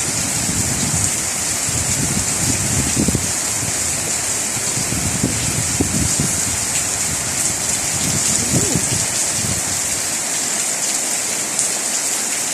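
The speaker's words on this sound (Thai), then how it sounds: "ทั้งลมทั้งฝนเลยวันนี้" Heavy rain pours steadily with a dense hiss, gusts of wind rumbling underneath, and a voice murmuring faintly at times.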